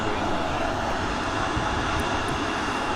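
An airliner with GE90 jet engines at Manchester Airport gives off a steady, distant engine roar that stays even and broad throughout, with no voices.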